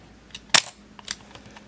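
A Sears TLS 35mm film SLR fires its shutter at 1/500 s, giving one sharp, close mechanical snap with a brief rattle after it, then a few faint clicks in a quiet room.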